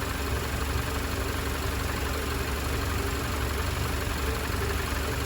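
A car engine idles steadily after running for ten to fifteen minutes, a constant low hum with no change in pitch throughout.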